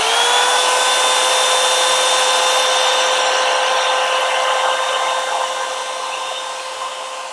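Hot Tools Black Gold Volumiser blow dry brush running on its cold air setting, a steady close whirring hum with a high whine that holds even and eases off slightly toward the end.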